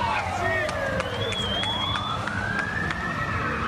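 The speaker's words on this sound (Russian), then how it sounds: "С визгом покрышек и воем сирен дюжина автомобилей ДПС" Several police sirens wail and sweep up and down at once during a car chase in Irkutsk, overlapping against steady traffic rumble, fairly close and loud.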